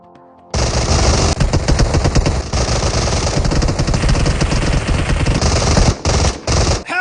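Sustained loud automatic gunfire in a video game shootout, bursts of rapid shots running nearly continuously for several seconds with brief gaps near the end, close and dominant with no talk over it.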